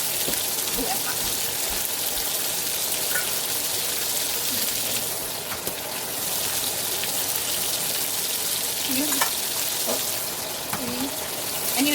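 Eggs poaching in a pot of hot water laced with vinegar give off a steady, dense bubbling hiss that runs without pause at an even, moderate level.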